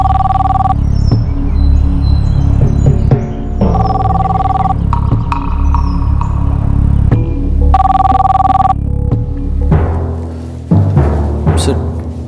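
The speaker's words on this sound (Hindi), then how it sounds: "सर, पुलिस हेडक्वार्टर से आपके लिए फोन है।" An old-style telephone bell rings in repeated bursts, several rings separated by short gaps, loud and close against a background hum.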